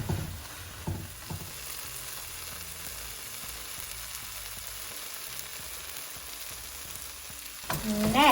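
Chilli powder, garam masala, salt and turmeric get stirred into a cauliflower masala frying in a pan, giving a soft steady sizzle with a few scrapes of the spoon near the start and a clatter at the end.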